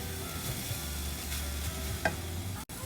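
Vegan fried rice is stirred in a hot pan, a steady close sizzle with soft scraping of the utensil through the rice and one brief clack near the end.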